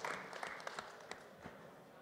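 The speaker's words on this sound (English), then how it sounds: "A smattering of applause." Sparse audience applause at a startup competition, a handful of scattered claps fading quickly over about two seconds, fairly faint and with no talking.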